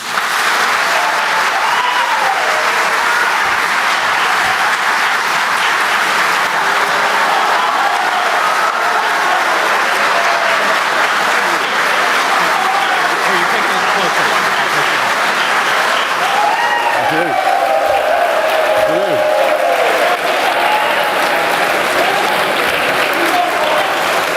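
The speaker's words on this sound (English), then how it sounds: "Now please join me in welcoming to the stage Mo Alathe" A large audience at a talk on democracy applauds as former UK Prime Minister Boris Johnson is welcomed onstage, producing dense, sustained clapping that stays loud and steady throughout, with a few cheers mixed in.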